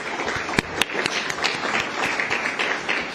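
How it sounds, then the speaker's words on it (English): Audience applause at a COP 28 panel session on net-zero roadmaps, a steady wash of clapping with a few sharper individual claps standing out near the start, moderately loud and continuous throughout. "If you could please give both panels another round of applause."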